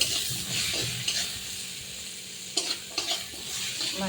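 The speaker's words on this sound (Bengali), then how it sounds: "আমি দিয়ে দেবো একটু হলুদ, নেড়ে চেড়ে" Potatoes dusted with turmeric are stirred in a frying pan, a steady close sizzle broken by a few sharp scrapes of the spatula, with no talking.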